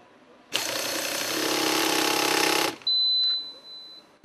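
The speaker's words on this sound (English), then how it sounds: "An operator is using the Yokota system wrench YED90 for tightening steering housing bolts." A Yokota YED90 impulse wrench tightening steering housing bolts in a DAF truck factory: a loud, steady buzzing rattle lasting about two seconds, then a brief high whine and fading machine noise.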